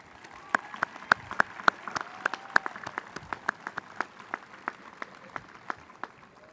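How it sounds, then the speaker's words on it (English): Audience at a spring commencement ceremony claps for graduates' families and friends, a moderate spread of individual hand claps with distinct sharp slaps over a soft crowd bed, steady throughout. "Graduates, please join me in a round of applause for your family and friends."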